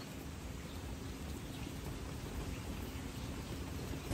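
Steady rain falls outdoors during a rainy-day outing in San Rafael, a continuous even hiss of drops with no talk over it.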